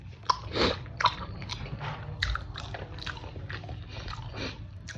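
Someone bites and chews a soft, syrupy gulab jamun sweet flavored with ghee, giving close, wet, squishy mouth sounds in a steady rhythm, with no talking.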